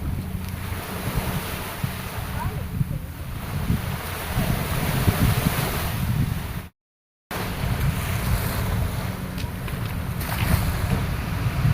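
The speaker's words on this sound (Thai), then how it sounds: "เรือหางยาวกำลังวิ่งนะคะ" Longtail boat running on the sea at Ao Nang, Krabi, a continuous engine drone with waves and heavy wind buffeting the microphone, steady and fairly loud, with a brief dropout partway through.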